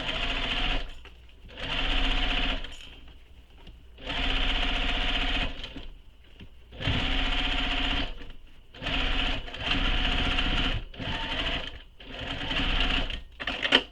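A sewing machine stitches the seam of a crossbody bag in repeated loud bursts, pausing briefly between runs as the bag is pivoted.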